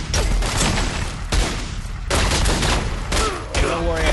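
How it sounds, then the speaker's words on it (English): Sustained bursts of gunfire strike the player character during a firefight in The Godfather II video game, loud, dense volleys in repeated clusters with short gaps between them. "Oh god, I'm getting shot up."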